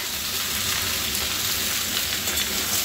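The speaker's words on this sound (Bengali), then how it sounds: "সবজিগুলো দিয়ে আমি ভেজে নেব।" Mixed vegetables fry in hot oil in a kadai wok, giving a steady, close, continuous sizzle with no talking.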